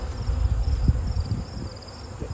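Bees in the bottom brood chamber of a hive being readied for winter, a low steady buzzing hum close by, alone without speech.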